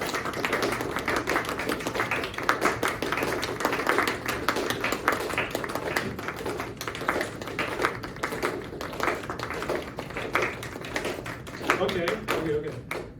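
A presentation audience claps together on cue in a crowd-wide rhythm, dense overlapping hand claps repeating steadily for several seconds, loud and roomy with some phase smearing between rows.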